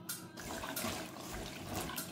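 Water pours over chicken gizzards in a bowl to soak them with baking soda, a soft continuous gushing and splashing, close but fairly quiet, without speech.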